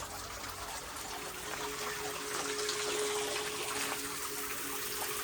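Garden water spray at RHS Bridgewater Gardens in Worsley, triggered as someone enters the area, hissing and gushing steadily and fairly close, growing slightly louder partway through and continuing throughout.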